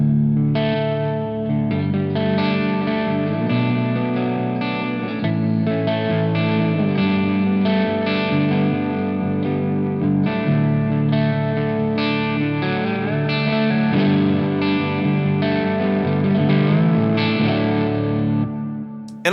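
An electric guitar played through a Tungsten Single Plex 5-watt Plexi-style amp with reverb and delay rings out in sustained distorted chords and melodic lines, with echoing tails throughout and no talking.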